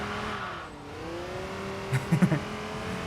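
A Viper race car in the racing game Enthusia Professional Racing holds a droning engine note that dips and rises, then brief tire squeals chirp in quick bursts near the end.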